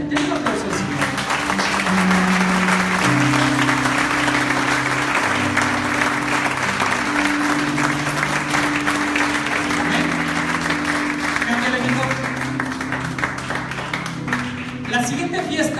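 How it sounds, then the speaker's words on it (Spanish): Church congregation applauding after a prayer at a Yom Kippur service, loud sustained clapping from a crowd mixed with keyboard music and scattered voices, fading slightly toward the end. "Den un aplauso al Señor."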